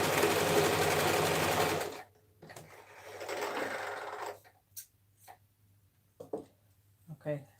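A sewing machine runs a tiny zigzag stitch on fabric for a dress form cover, a close, fast mechanical whir for two seconds, then quieter bursts and short ticks as it slows and stops.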